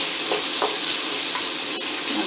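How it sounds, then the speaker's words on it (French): Onions sauté in a pan for a chicken tajine, giving a loud, dense, steady sizzle with a few faint clinks of stirring. "On va laisser revenir un petit peu les oignons."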